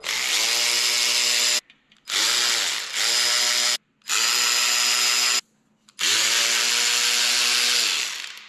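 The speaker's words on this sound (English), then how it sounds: "Now it's safe for the power tool." A power tool whirs loudly in four bursts with short pauses between, each run revving up and spinning down as it works on bolts.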